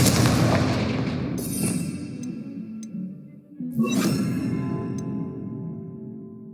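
Confringo fire spell blasts in Hogwarts Legacy, two loud booming bursts a couple of seconds apart, each with a crackling, fiery tail over a low game background rumble.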